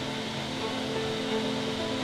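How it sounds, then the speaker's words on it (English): A highly pressurized water jet stone-cutting machine in a Basque Country stone-carving shop gives off a continuous, even hissing roar that fills the space at steady loudness, with no voices. "I could end up in a highly pressurized water jet stone cutting machine that looks straight out of a sci-fi"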